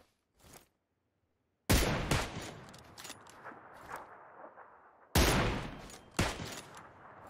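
Gunfire in PUBG Lite on the Miramar map: sharp, loud bursts of shots in two main volleys separated by a short quiet gap, with a few scattered single cracks, close and crisp with no talk.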